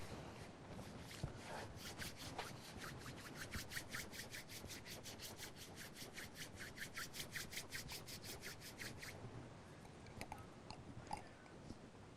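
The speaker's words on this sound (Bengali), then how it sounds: "এরপর আমরা দুটি হাতকে ঘষে আয়োডিনটিকে গরম করব" Two hands rubbing briskly together to warm iodine during a sublimation fingerprint demonstration, a steady dry swishing friction that runs for several seconds with rapid rhythmic strokes, fairly quiet and close, with no voices.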